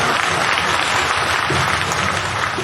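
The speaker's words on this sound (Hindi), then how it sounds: "और आप ताली बजा सकते हैं।" Audience at a Hindi poetry recital claps after a poem ends, a dense steady wash of hands filling the hall at close range for the whole stretch.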